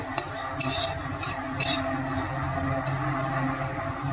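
White and black mustard seeds frying lightly in a pan for tamarind pickle, a steady low crackle under several sharp stirring scrapes of a utensil against the metal.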